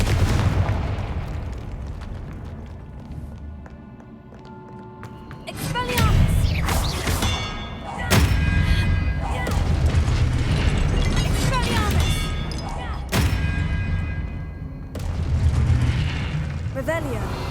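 Confringo fire spells explode in the game Hogwarts Legacy: several loud, booming blasts with crackling tails arrive in bursts after a quieter opening, with speech heard between them.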